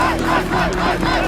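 Roaring esports arena crowd at a League of Legends EU LCS semifinal between Fnatic and H2K, a dense, loud wall of cheering voices with no pause.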